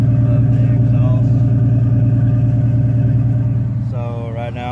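A Detroit Diesel 6-71 two-stroke engine with a bad injector and smoky exhaust runs steadily near the microphone, a loud, even low drone with a strong fundamental. A voice comes in near the end as the drone fades slightly.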